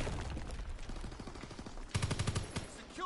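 Gunfire in a World War II video game: a steady rattle of shots runs through the moment, ending in a louder, sharper burst of rapid automatic fire near the close.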